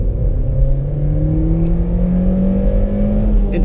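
A 2017 VW Polo Mk5 accelerating hard, its engine a steady loud drone whose tone climbs gradually as revs rise, heard from inside the cabin with no talking.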